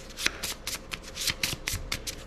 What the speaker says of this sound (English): shuffle these real quick. Make sure they're mixed up good